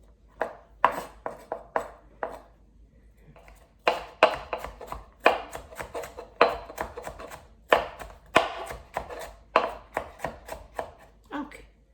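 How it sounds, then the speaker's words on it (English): A knife chops red pepper into small dice on a cutting board, giving quick, crisp close-up knocks in bursts with brief pauses between them. "We'll cut into small dices."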